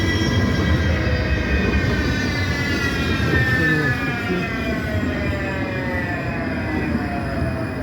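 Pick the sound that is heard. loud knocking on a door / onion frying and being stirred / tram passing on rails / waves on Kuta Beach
tram passing on rails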